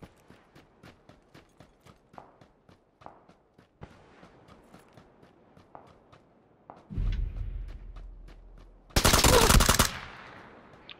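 Suppressive gunfire in PUBG, starting with a steady run of spaced, distant shots, then a heavier burst of nearer firing, and ending in a loud, sharp close volley.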